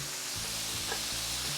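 Steak bites sizzling steadily in a hot pan just after being flipped, a continuous close frying hiss with soft clinks of stirring.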